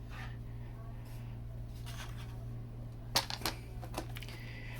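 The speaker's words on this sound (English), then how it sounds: "So I'm gonna go ahead and just kind of cut them down now." Scissors cut craft paper pieces for a Crafter's Companion Bethlehem scene, giving a few quiet, close snips and rustles in the second half over a low, steady hum.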